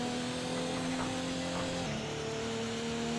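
Race car engine in Assetto Corsa running a steady lap, a continuous droning tone that holds a constant pitch before briefly dropping as the car shifts or eases off, with no talk over it.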